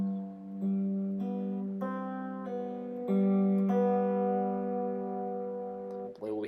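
Guitar riff: picked notes build into ringing, sustained chord tones that overlap and slowly fade, played quietly and alone.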